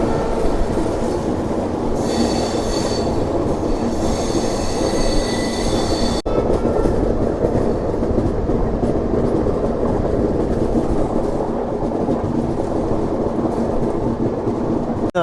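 Garib Rath superfast express between Yesvantpur and Secunderabad rolls past a station without stopping, giving a loud, steady rumble of wheels and carriages with some high metallic squeal, continuous throughout with no talk.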